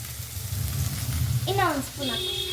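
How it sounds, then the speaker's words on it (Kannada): Masala with coriander powder fries in a pan for an egg curry, giving a soft, steady sizzle while a voice speaks over it. "ಇದರಲ್ಲೇ ಫ್ರೈ ಮಾಡ್ಕೊಬೇಕು ಚೆನ್ನಾಗಿ."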